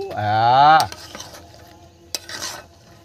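Kasuri methi is stirred into Basanti pulao in a pan. A brief voiced sound comes first, then a few close spoon scrapes and knocks against the pan.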